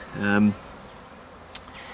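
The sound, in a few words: bee buzzing close by near a beehive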